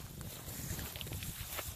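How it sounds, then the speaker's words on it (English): Faint, gusty outdoor wind rumbles and buffets the microphone in a low, steady roar with no talking. "pretty windy right now."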